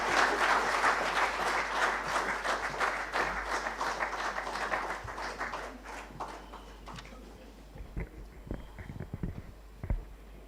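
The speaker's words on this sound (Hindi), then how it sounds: "please join me in welcoming him with a huge round of applause" Audience applause fills a hall at an inauguration and water awards ceremony, loud and sustained clapping for several seconds that thins out into scattered, fading claps toward the end.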